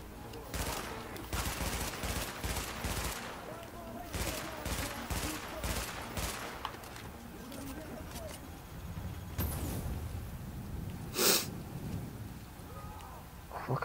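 Bursts of explosive-bullet gunfire in Tom Clancy's The Division at the Hudson Refugee Camp, dense volleys over the first seven seconds, then scattered louder shots and a sharp crack near the end, with a voice talking intermittently.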